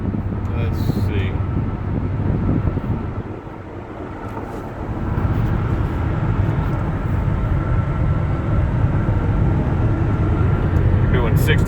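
A 2004 Toyota Sienna handicap van cruising at highway speed, with steady cabin road and wind roar that dips briefly and returns, under a person talking.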